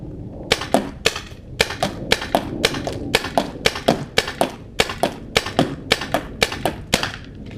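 Magazine-fed paintball marker firing thick-shelled HK Premium banana-scented paintballs: about fifteen sharp pops at a steady, quick rhythm, each followed by a dull thump of the ball hitting a box, loud and close, with no speech.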